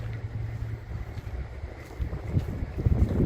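Outdoors near a building construction site, wind buffets the microphone with a steady low rumble that grows gustier and louder toward the end. No voice is heard.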